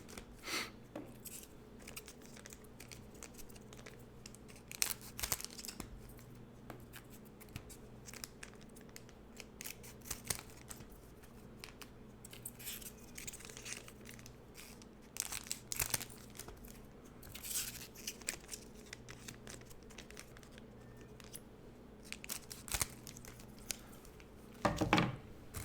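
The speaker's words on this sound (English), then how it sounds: "This also marks about the halfway point of opening these cards. They're card packs." Trading card packs are opened one after another, wrappers tearing and crinkling in sharp, irregular bursts over a low steady background hum, close and fairly quiet with no talking.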